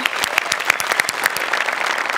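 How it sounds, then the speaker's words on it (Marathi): Studio audience applause at a Marathi comedy show, brisk close clapping with sharp individual claps standing out over a lively crowd. "जोरदार टाळ्या दोघांसाठी"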